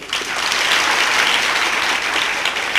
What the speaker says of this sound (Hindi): इसके लिए ताली बजाइए